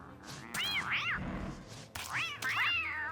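Strained, wailing meows from a cat being killed in the video game Don't Starve Together, two drawn-out cries separated by sharp impact hits, loud and close with a low rumble beneath.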